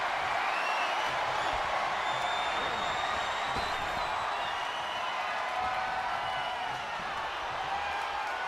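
A video game wrestling arena crowd roars continuously, a dense, steady wall of distant cheering and murmuring with no clear breaks.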